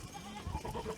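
Sheep in a flock of about 300 bleat faintly in short, overlapping calls, low in level with no clear talk over them.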